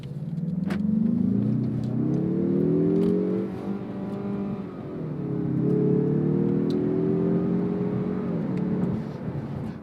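A 2023 Mazda3 with a 2.5-liter turbocharged four-cylinder engine accelerating hard, its revs rising in two long pulls separated by a brief dip for a gear change, loud and close with a steady growl.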